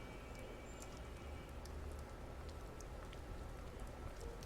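Steady rain falls in a scene from The Wolf Among Us video game, a faint, even hiss with scattered drips that continues unbroken and alone without any speech.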